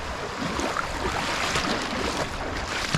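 Sea waves wash and slap against a boat at Balaytigue, a steady, loud churn of water that continues for the whole stretch, with no voices.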